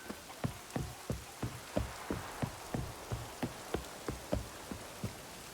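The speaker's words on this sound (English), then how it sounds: "Raining again." Rain falls steadily in The Witcher 3, a soft continuous patter with regular heavier drips landing at an even rhythm, no voices over it.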